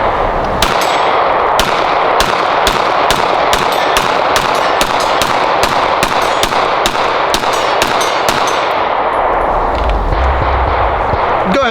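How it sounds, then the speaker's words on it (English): Rapid shots from a Sig Sauer P320 pistol on a range, a loud string of about twenty sharp cracks with ringing echoes that fire in quick succession before trailing off. "Let me shoot the P320."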